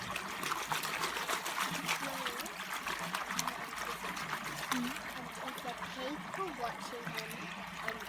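Gravel is washed in a gold pan at Reedy Creek, with steady trickling and sloshing water and occasional gritty clicks, soft and continuous throughout.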